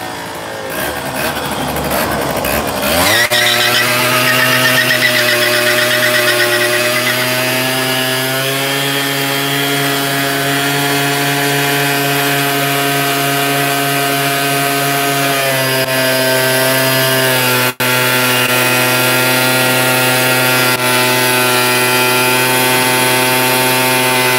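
A motorcycle does a tire burnout in a shop, its engine climbing quickly to a loud, sustained high-revving roar with a strong droning whine that holds steady for about twenty seconds, close and overpowering.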